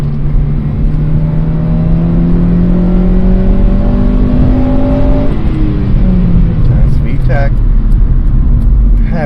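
A Honda Civic engine with VTEC revs high, its pitch climbing steadily as the revs build before easing back down, loud and sustained throughout.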